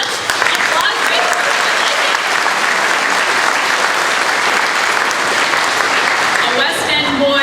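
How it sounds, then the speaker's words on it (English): A crowd at a tribute gathering breaks into loud, steady applause that fills the whole stretch, dense and close, fading near the very end. "let's applaud him"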